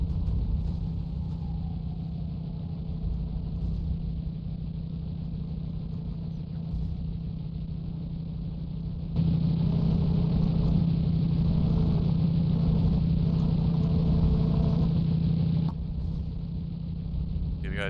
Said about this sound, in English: I might have tuned this wrong because it gets to 1100 RPM and then won't shift gears.